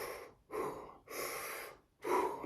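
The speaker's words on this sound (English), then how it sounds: "you see them taking that one or two deliberate breaths" Slow, audible breaths in and out, three or four long airy exhalations and inhalations with short gaps, close and fairly quiet.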